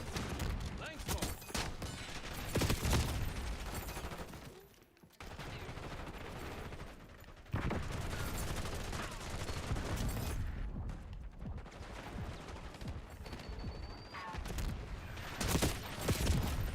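Rapid bursts of automatic gunfire and scattered single shots crackle through a shooting video game battle, loud and dense with brief lulls, alongside other game mechanisms.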